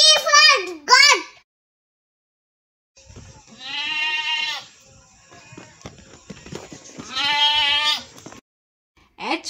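A goat bleats loudly twice, long wavering cries close by, between short bits of someone speaking.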